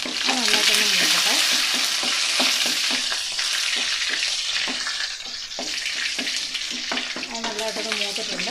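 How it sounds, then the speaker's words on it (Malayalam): Curry leaves and dried red chillies fry in hot oil with a loud, steady sizzle, and stirring scrapes and clinks keep breaking through it. "കരിവേപ്പില ഇട്ടു, വറ്റൽമുളക് ഇട്ടു. അത് നന്നായിട്ടൊന്ന് മൂക്കട്ടെ."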